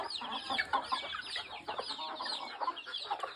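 A free-range flock of mongrel gamefowl hens clucks continuously up close, overlapping calls rising and falling in a dense chatter with no voices.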